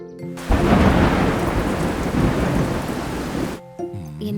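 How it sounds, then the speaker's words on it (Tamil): Heavy rain and rolling thunder from a children's cartoon form a loud, dense storm roar for about three seconds. It cuts off sharply, and a voice and music follow. "என்னங்க மழையும் கிழையுமா இருக்கு."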